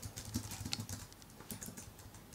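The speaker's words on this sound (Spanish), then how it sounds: "Vamos a abrir una nueva nota y podemos empezar a escribir." Quick taps typing a note on an iPhone's on-screen keyboard, a sparse run of faint, close clicks with short pauses and no talking.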